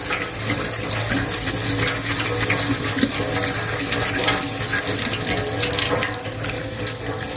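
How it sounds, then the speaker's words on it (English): Steady running water from a tap splashing over small hard diamond painting drills, a continuous close rush with faint clinks and no talking. "you're going to get water to pour over your drills"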